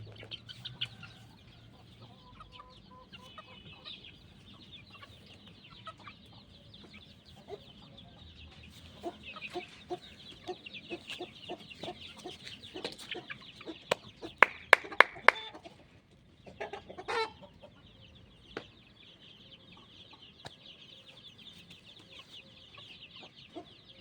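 Chickens in a farmyard cluck on and off over a long stretch, with scattered nearby calls and a few sharper squawks partway through, above a low background hum.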